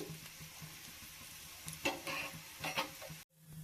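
Carrot masala roti fries in oil on a hot tawa, a quiet steady sizzle with a few brief scraping bursts near the end before a sudden cut.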